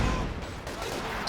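A Company of Heroes 2 artillery barrage, with dense rumbling blasts and crackling gunfire filling a short stretch while a commentator talks over it.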